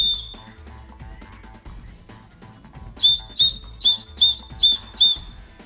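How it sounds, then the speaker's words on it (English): A small whistle on a survival paracord bracelet is blown in six short, sharp, piercing toots in quick, even succession, following quieter indoor sounds. "remember not to blow your whistle in the library"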